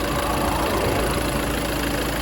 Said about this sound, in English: We behold a 2 litre Peugeot HDI diesel engine.